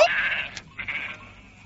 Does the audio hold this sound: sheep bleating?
yes